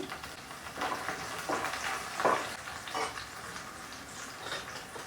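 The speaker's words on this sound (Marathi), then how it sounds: "कांदा छान परतवून घेऊ" Chopped onion sautéing in a hot pan for a black chickpea usal, a steady close sizzle and crackle with a few louder stirring bursts, no voices.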